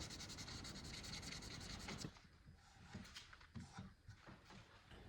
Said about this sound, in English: I fill them with a wood filler and carefully sand to size